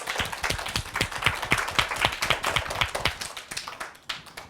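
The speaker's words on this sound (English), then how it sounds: "Let's give her one more round of applause." A third-grade classroom gives a student a round of applause, with many small hands clapping in a dense, lively patter that thins out toward the end.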